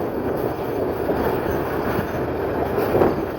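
A train rolls into Akhaura railway station on the dual-gauge line, its wagons producing a loud, continuous rumble with a faint rhythmic wheel clatter and a hint of squeal, heard up close with no voices.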